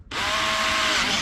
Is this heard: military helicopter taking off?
no